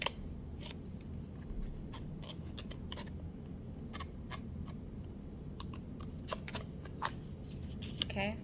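Scissors snipping through gold chocolate wrapper foil, a string of short crisp crinkly cuts at irregular intervals, close and fairly quiet over a low steady room hum.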